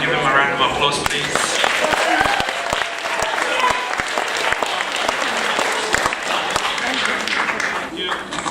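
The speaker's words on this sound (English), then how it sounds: "everyone give him a round of applause, please." An audience at a community event breaks into a sustained round of applause, dense clapping that carries on for several seconds while a voice speaks over it.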